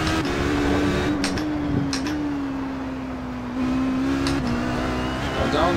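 Sustained engine drone of an HPD ARX Le Mans prototype race car at Suzuka in iRacing, holding a steady high tone that drops and steps with several gear changes, close and continuous, with faint talk underneath.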